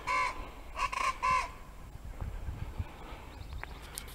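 Cocrico birds call from trees in Tobago: three loud harsh squawking bursts at the start, then quieter scattered calls and rustling farther off.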